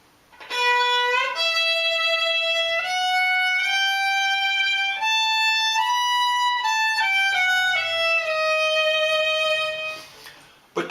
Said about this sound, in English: If I play his work as written, it sounds like this.